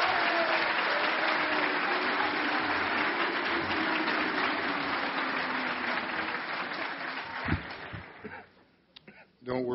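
A crowd at a coach's introductory press conference chants a long, low "Moose" for athletic director Bill Moos, sounding like booing. The sustained droning swell fades near the end into brief talking.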